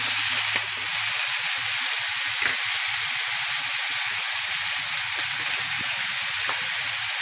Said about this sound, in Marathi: हे चांगलं आता टोमॅटो चांगलं आपलं नरम होतोपर्यंत 4 मिनिट असं गॅस हात ठेवून असं परतायचं चांगलं